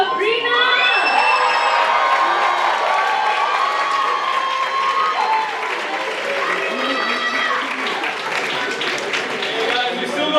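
A theatre audience at the Colours of Malaysia 2026 show bursts into loud cheering, whooping and sustained applause, with shouts and an announcer's voice over the crowd.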